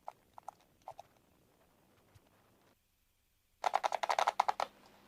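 Computer keyboard keys are pressed, first as a few soft, sparse clicks, then after a short silence as a loud, rapid burst of close typing picked up by a conference microphone.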